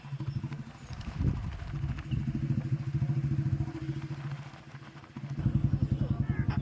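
A motorcycle rides along a local road, its engine giving a loud, close, throbbing putter that rises and dips with speed. A voice talks over it at times.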